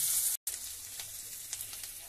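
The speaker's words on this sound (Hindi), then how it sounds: "कटे हुए प्याज को लाल होने तक भून लेंगे" Chopped onions frying in a pan for baingan bharta, a steady close sizzle with faint crackles, briefly cut by a momentary dropout near the start.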